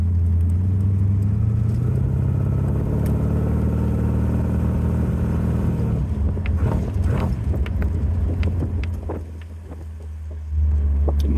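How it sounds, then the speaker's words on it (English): Small car called Bonnie driving in cold weather, a steady low engine rumble with wind noise that shifts and roughens midway, then drops briefly before returning; no talking. "Bonnie's a wicked little car"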